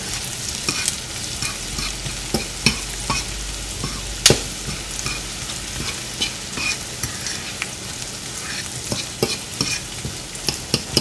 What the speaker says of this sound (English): It has to be when it's sauteing. The onions, the garlic, and the butter.